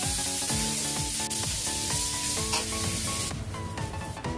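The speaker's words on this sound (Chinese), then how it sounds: "炒香啊，炒香，把猪肝粉肠放下去" Pork liver and intestine stir-fry with sour bamboo shoots in a hot oiled wok, giving a loud steady sizzle under rhythmic metallic scraping and clanking of the spatula, close up and without talking.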